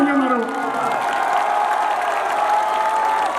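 A large crowd at a Punjabi akhara stage show in Gidderbaha claps loudly and steadily, mixed with cheering and a sustained voice or musical tone riding above the applause.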